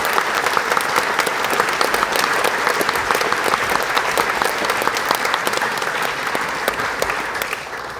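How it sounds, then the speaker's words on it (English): Theatre audience applauding a brass band at a concert hall festival, a full, continuous roar of clapping hands that stays strong and even before tapering slightly at the close. "Let's give the band and the songs a big round of applause."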